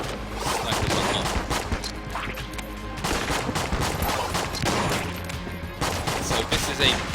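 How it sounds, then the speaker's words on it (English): Rapid bursts of gunfire from a bullet bat firing bouncing shots in the video game Enter the Gungeon, a dense, continuous barrage of loud shots with no talk. "Yeah, sorry, that was a bullet bat thing. It fires bouncing shots."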